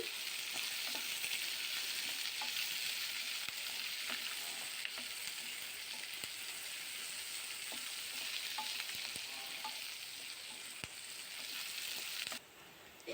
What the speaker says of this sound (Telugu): ఇప్పుడు కొద్దిగా ఎండుమిర్చి అలాగే కరివేపాకు కూడా వేసుకొని వేయించుకోవాలి